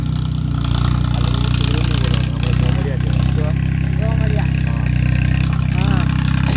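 A Sonalika 740 tractor engine runs steadily on a farm with a loud, constant low throbbing drone, while people talk over it throughout.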